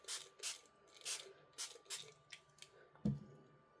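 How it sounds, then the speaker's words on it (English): A handheld spray bottle spritzes several times in short, close bursts, followed by a soft thud. "Give it a spray."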